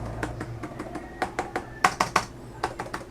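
Someone types on an HP Omen 15 laptop keyboard, deep-travel tactile keys giving a close, irregular series of crisp clicks and taps, some louder strokes clustered in the middle.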